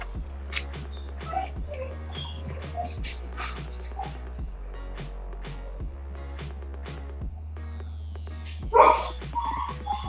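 Dogs barking and yipping intermittently at some distance over a steady low hum, with a louder burst near the end.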